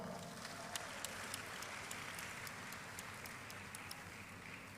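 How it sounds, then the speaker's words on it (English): A university lecture audience in a Peace, Conflict and Strategic Studies department gives a round of applause: a soft, distant, continuous patter of many hands with a few crisper claps, evenly sustained throughout. "Give him a round of applause"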